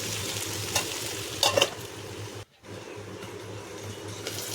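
Sardines fry in a covered pan, giving a low, steady sizzle with a few brief louder bursts. The sound drops out for a moment, then the sizzle returns at the same quiet level.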